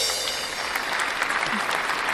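Clapping welcomes guests on a reptile-keeping podcast, a steady burst of applause from a few people, fairly close, with a faint voice underneath.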